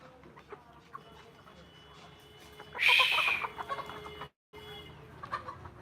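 Layer hens on a Bangladeshi poultry farm with an ailing flock cluck and squawk continuously, rising to a loud, shrill burst midway before settling back to busy clucking, with a voice talking at times.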